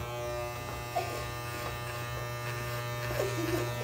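Electric hair clippers shave the side of a head, a steady close buzz running throughout at moderate volume, with faint scraping passes and occasional soft voices underneath.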